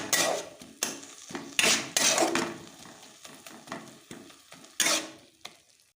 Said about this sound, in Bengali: এখন এগুলোকে ভালো করে মিক্স করে একটু সময় ফ্রাই করে নিতে হবে।